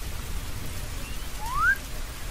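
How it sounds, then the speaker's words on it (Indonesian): Heavy rain pours steadily in an animated scene, a soft continuous hiss of falling water with no voices, and a brief rising whistle-like tone near the end. "Hari itu hujan turun lebat."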